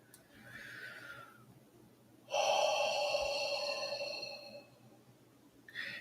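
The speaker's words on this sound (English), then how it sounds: "And now let's take a deep breath." A slow, deep breath taken during a guided breathing practice, an audible inhale with a soft airy rush that swells, holds, and then fades, close and clear with no talking over it.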